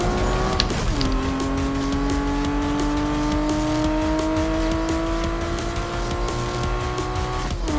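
Racing cars from the Need for Speed video game roar at high revs with screeching tires and skids, a steady, loud engine drone shifting pitch at gear changes, with no talk over it.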